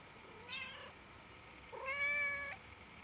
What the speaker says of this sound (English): Oh, she's meowing.